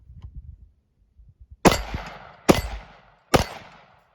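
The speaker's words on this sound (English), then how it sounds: "So by pushing this, how you charge your rifle" Three sharp metallic clacks from a Cetme Model L 5.56 NATO rifle, each a loud, close impact with a short ringing tail, spaced about a second apart after some faint handling noise.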